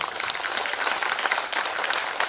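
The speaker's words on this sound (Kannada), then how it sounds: "ನಿಮ್ಗೆ ಸತ್ಯ ಅಂತ ಅನಿಸಿದ್ರೆ ಚಪ್ಪಾಳೆ ಕೊಡಿ ಪ್ರಿಯರೇ" Audience applause at a church novena for the Infant Jesus, a dense, steady wash of many hands clapping together throughout, close and full with no pauses.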